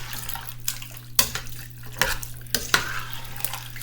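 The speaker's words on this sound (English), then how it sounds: "So I'll stir this one up." A spoon stirs a pot of homemade chili with soft, wet sloshing and a few sharper scrapes and clinks against the pot, heard up close over a low steady hum.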